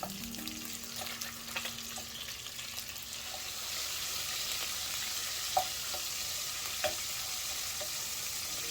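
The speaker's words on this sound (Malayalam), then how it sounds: "ഞാൻ ജസ്റ്റ് ഒന്ന് ഫ്രൈ ചെയ്തിട്ടെടുക്കും." Chicken pieces fry in hot oil in a home kitchen, giving a steady, soft crackling sizzle with occasional louder pops throughout.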